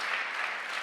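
Brief burst of audience applause at an environmental awards ceremony, a steady dense wash of clapping without breaks, moderately loud and heard alone.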